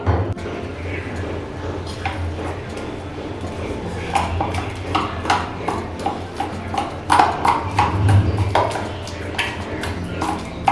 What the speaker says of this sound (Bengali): এখন এই আলুগুলোকে ভালো করে ম্যাশ করে নিতে হবে।